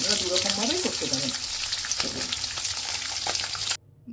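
Garlic, peanuts and green chillies sautéing in a pan for a spicy chicken thecha, a steady loud sizzle and crackle running throughout with occasional stirring scrapes, cutting off abruptly near the end.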